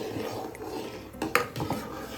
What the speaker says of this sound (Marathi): एका हाताने हलवायचं आणि असं एका हाताने ओतायचं